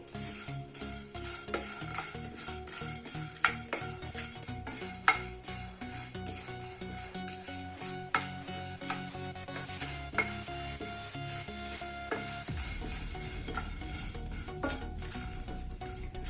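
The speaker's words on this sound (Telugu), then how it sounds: "ఇప్పుడు వీటన్నిటిని ఒక 1 మినిట్ పాటు లో ఫ్లేమ్లో వేయించుకోవాలి" Whole spices for homemade garam masala dry-roasting over a low flame, a steady scrape and stir in a pan with occasional sharp metallic clinks from a utensil, over a soft background hum.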